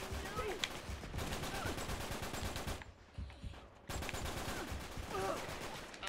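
Rapid, dense gunfire from the Uncharted 3 video game rattles almost continuously in loud overlapping bursts, pausing briefly in the middle before the volleys resume.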